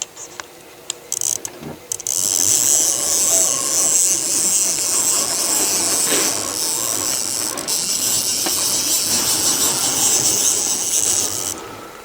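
A Shark CNC sheet-milling machine jogs along its axes, starting with a few short clicks and bursts, then a loud, steady mechanical whir and hiss that holds for about ten seconds before easing slightly at the end.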